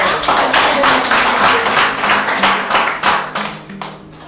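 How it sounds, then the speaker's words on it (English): Audience applause at a talk-show event, a dense burst of many hands clapping close by, with a few voices mixed in, tapering toward the end. "Okay, a big applause again."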